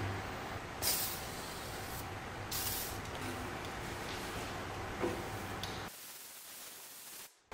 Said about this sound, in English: Now I gotta clean it one more time and then I'm gonna just spray it with paint.